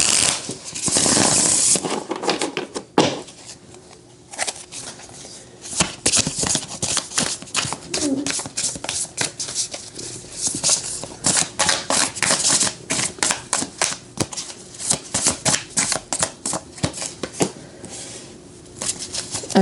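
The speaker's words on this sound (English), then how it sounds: "so let's pull some cards" Tarot cards being shuffled by hand in a quiet indoor setting, a long run of dense riffling and crisp flicking taps that rises and falls in bursts, close and fairly loud, with no talking.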